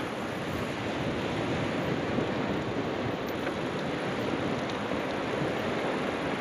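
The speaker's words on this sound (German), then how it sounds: "man hört die Brandung" Steady roar of surf washing onto the Sicilian shore, a continuous broad rush of waves with some wind, loud and close, with no voices.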